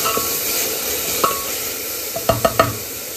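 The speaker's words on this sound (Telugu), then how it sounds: "ఆనియన్స్ అన్నీ వేయించుకోవడం అయిపోయింది." Onions frying in a pan for a spiced goat-head curry give a steady loud sizzle, with a few sharp scrapes and knocks of a spoon stirring near the end; no talking.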